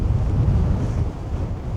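Strong wind buffets the microphone on the clifftop at the Cliffs of Moher, a steady low rumbling roar with gusty swells, no voices.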